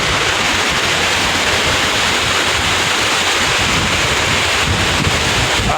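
Big sea waves at Manila Bay, a loud, continuous roar of surf mixed with heavy wind buffeting the microphone, steady throughout with no voices heard.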